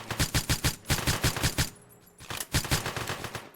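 Rapid automatic gunfire from the video game One Armed Robber comes in a fast burst, breaks off for a short pause, then resumes in another quick run of shots.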